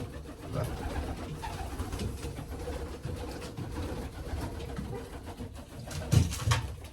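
Several pet pigeons cooing in a cold-weather loft, soft low calls repeating irregularly over a steady background hum, with a couple of slightly louder coos near the end.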